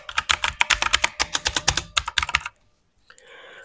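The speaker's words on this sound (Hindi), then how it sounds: "Red dragon RMN K5669। सो इसके जो है वो ब्लू स्विचेस हैं और ये उससे ज़्यादा क्लिकी है।" A Red Dragon K5669 mechanical keyboard with a metal base and clicky blue switches is typed on in a rapid, close burst of sharp keystrokes for about two seconds, then falls silent before a faint sound follows.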